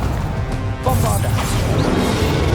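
A Bombarda spell blast in the video game Hogwarts Legacy, a sudden loud crash and burst of magical energy under ongoing combat noise and voice.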